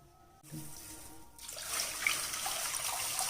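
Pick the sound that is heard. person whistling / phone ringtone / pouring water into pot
pouring water into pot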